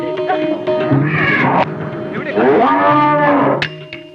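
A cow lets out a loud, drawn-out moo close by. The tonal lowing rises and falls through several long phrases over steady background tones.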